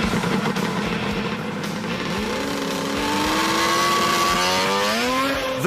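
A 180-horsepower amphibious car held at full power while driving on water gives a loud, close, sustained engine roar whose pitch climbs steadily as the revs rise, with no talking.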